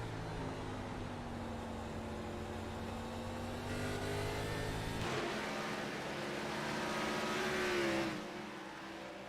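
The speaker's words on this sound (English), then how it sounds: "You can hear just how easy these guys are on the throttle." Stock race cars at North Wilkesboro speedway: a sustained engine drone with shifting harmonic whine, pitch sliding as throttle eases and builds, rising slightly louder toward the end before dropping off.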